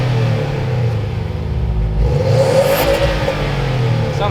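A Subaru STI Type RA fitted with a Magnaflow catback exhaust revs close by, its loud, steady engine rumble swelling to a stronger rasp midway before settling back.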